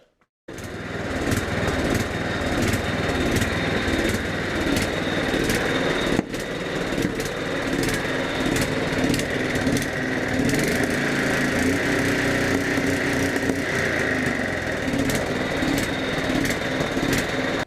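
A Craftsman 6x6 lawn tractor engine fires after a jump-start from a battery booster, then runs with a steady loud close drone and rhythmic ticking, continuing without pause to the end.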